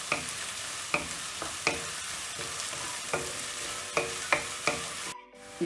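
Garlic and onion frying in oil for a Tamil dried-fish curry, a continuous crackling sizzle punctuated by regular scraping stirs against the pan, close and clear with no talk, ending in a brief dropout.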